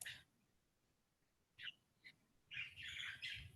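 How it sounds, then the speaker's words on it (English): A green-necked parrot gives a few short, sharp squawks in the background of a quiet room, with isolated calls and then a longer burst of harsh calls near the end. "Oh, you got a parrot in the background."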